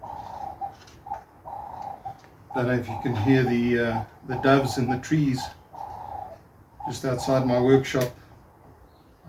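Doves coo repeatedly from trees outside a workshop, a soft low rhythmic call that returns in short phrases between and under a man's nearby speech.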